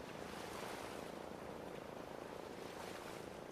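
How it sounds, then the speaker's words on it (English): Soft, steady wash of waves lapping at a shore by an industrial-waste-strewn sun deck in Fallout 4, a faint continuous broadband hush with no distinct breaks and no speech. "listen to the soothing lap of the waves"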